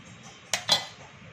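Two quick clattering knocks of rinsed homemade pasta and utensil against a bowl, close by, then quiet kitchen background.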